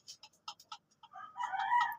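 A rooster crows once after a few short sharp clucks, the crow rising loud and close into a drawn-out call, alone against a quiet background.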